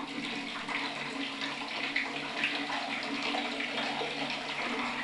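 Steady running water from a tap in Manila's Maynilad supply, a continuous broadband rush with no pauses, fairly close and without voices.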